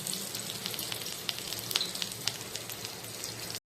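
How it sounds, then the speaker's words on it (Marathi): Stuffed bitter gourds fry in oil over low heat with a close, soft, crackling sizzle and scattered sharp pops. The sound cuts off briefly near the end, with no talk. "आता हे आपण कमी आचेवरच चांगले खरपूस भाजून घ्यायचे"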